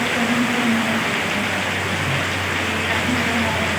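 Dense, steady roar of heavy rain during an e-bike ride, loud and unbroken throughout, with faint low voices underneath.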